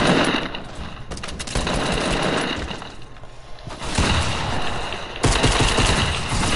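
Sustained, dense bursts of automatic gunfire in a video game, loud and continuous rattling with rapid overlapping shots and brief dips, dominating the mix with no talk over it.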